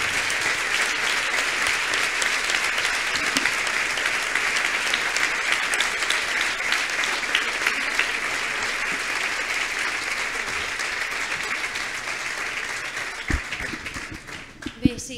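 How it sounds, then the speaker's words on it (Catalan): A crowd at a talk on state repression during the Clownia 2019 festival applauds strongly, sustained dense clapping that holds steady for most of the clip before thinning out near the end. "Així que un fort aplaudiment, sisplau."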